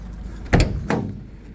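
The rear door of a 2015 Mercedes Sprinter 316 van is worked nearby: a heavy thud followed by a lighter clack, with quiet background in between.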